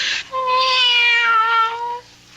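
A cat meows in a long, drawn-out, rising and falling cry in an old-time radio drama, loud and close, heard alone with no voices.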